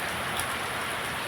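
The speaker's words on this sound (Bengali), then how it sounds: "দেখো বাইরে কত বৃষ্টি, দেখেছো? দেখেছো? সব জায়গাতে বৃষ্টি" Heavy rain pours down outside, a dense, steady hiss of drops hitting surfaces that stays even and unbroken throughout, with no voices.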